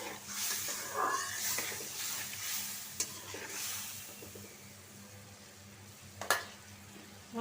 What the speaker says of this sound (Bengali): মশলাটা সুন্দরভাবে কষায় নেব